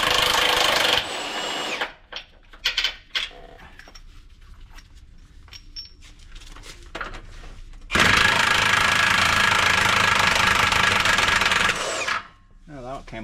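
A power impact tool removes wheel fasteners on a Prevost XLII bus, with a short burst first, then rattling and clanking of loose parts and a long, loud, steady run of the tool, ending with a brief creak.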